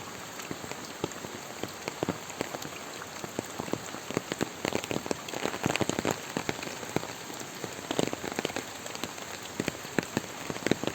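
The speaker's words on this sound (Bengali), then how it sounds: "আজকে সকাল হতে বৃষ্টি, অনেক বৃষ্টি হইতেছে, বৃষ্টি কোনো শেষ নেই" Steady heavy rain falls on waterlogged farmland and lanes in a Sonagazi village in Feni, a dense wash of rainfall with frequent crisp, close drop hits throughout.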